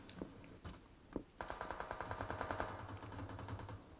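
Gunfire in a PS4 shooter game: a few scattered single shots, then a rapid automatic burst of evenly spaced rounds lasting about two seconds, fairly faint, with no talk.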